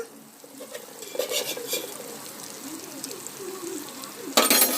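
Fish eggs with salt, turmeric and chili frying in a pan among a tomato and onion mixture, with a soft sizzle under repeated stirring scrapes and clinks and a sharp louder scrape near the end.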